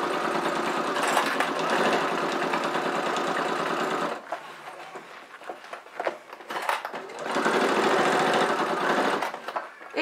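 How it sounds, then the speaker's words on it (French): A sewing machine hums loudly and steadily as it stitches a seam on a zippered crossbody bag, pauses briefly amid soft handling noises, then runs again to the end, close up with no talk. "Et je couds comme ça jusqu'au bout."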